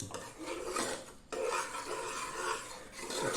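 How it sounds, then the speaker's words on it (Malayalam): A spoon scrapes and rubs around a pan while stirring erissery, a Kerala dish of pumpkin and beans, after sugar is added, giving close, rasping, continuous strokes with a brief pause partway through. "കാൽ ടീസ്പൂൺ പഞ്ചസാര കൂടി ചേർക്കാം വീണ്ടും നന്നായിട്ട് ഇളക്കാം"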